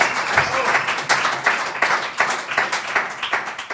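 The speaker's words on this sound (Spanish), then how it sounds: "Así que un aplauso y bienvenidos." An audience claps to welcome two speakers onto a stage for a storytelling talk, with moderately dense applause and distinct individual claps throughout.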